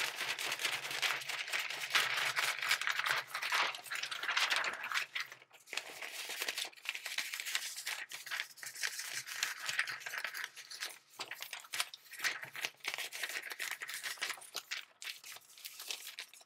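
Printed paper stationery being cut by hand, with close, repeated crisp snipping and crinkling rustles in irregular bursts, separated by brief pauses, with no voices.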